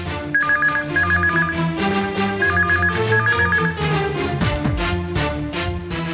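Telephone ringing on the other end of a call in a Tamil TV serial, repeated trilling bursts of the ring heard over a background music score.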